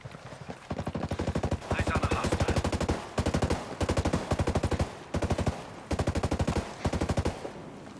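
Automatic gunfire in a Ghost Recon Breakpoint PvP match rattles out in several loud, rapid bursts with brief gaps between them, each burst a fast string of sharp shots.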